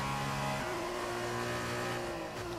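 Formula 2 race car engine from the F1 2019 video game at the Bahrain Grand Prix circuit, a loud sustained high-pitched engine whine with shifting gear tones that drop and settle, steady throughout with no talking.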